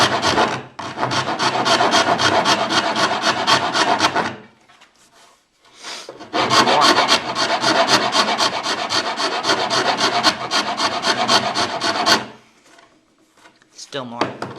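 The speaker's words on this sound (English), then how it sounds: "here it's that really thick rasp again, and it really cuts through that stuff." A thick wood rasp files hard at a board bow, two long runs of loud, steady back-and-forth rasping strokes separated by a short pause, close up.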